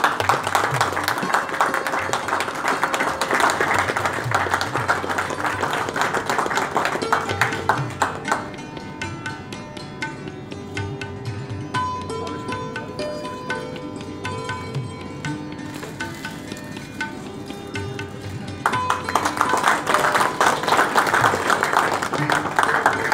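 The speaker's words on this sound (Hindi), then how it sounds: "एक जोरदार तालियां हो जाए" At an Indian Bottled Water Day event, an audience applauds loudly while music plays, the clapping strong at the start, easing into a softer stretch dominated by tones, then swelling again toward the end.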